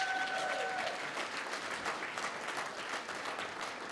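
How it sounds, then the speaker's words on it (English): An audience at a cultural diversity awards ceremony gives a volunteer honoree warm, steady applause, moderately distant, with a brief vocal whoop at the start. "Please give a warm round of applause to Inder Singh from Archway Community"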